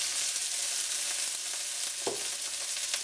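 Onion and tomato sizzle steadily in a pan as they are stirred, a continuous close frying hiss with a brief scrape of the utensil partway through.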